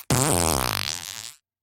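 A fart sound effect is dropped in as a single loud, close, buzzy rasp lasting just over a second, its pitch wobbling and slowing before it cuts off into silence.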